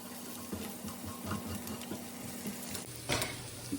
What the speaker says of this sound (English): Now we're gonna add in garlic, and I've got 4 garlic cloves that I just kind of minced up.